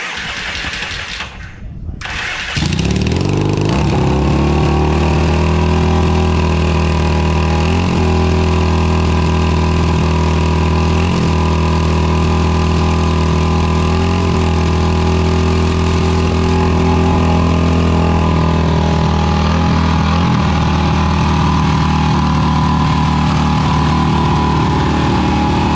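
A Yamaha XS650 motorcycle engine, just after a carburetor rebuild, cranks briefly and then catches, settling into a loud, steady, close idle that runs for over twenty seconds with slight periodic stumbles.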